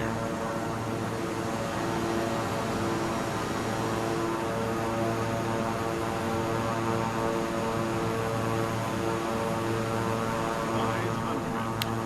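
A steady, close propeller-aircraft engine drone with a constant tonal hum holds throughout as the plane comes in to land with its landing gear down, without pause or change.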